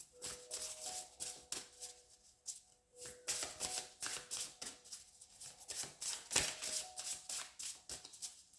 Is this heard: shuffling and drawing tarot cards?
yes